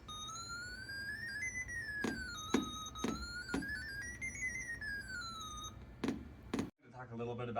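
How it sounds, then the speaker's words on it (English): An electronic drum sequencer plays a repeating beat through a small speaker, with evenly spaced thumping hits under a wavering synthesized tone that rises and falls, ending with a brief burst of talk. "a drum beat sound from the speaker."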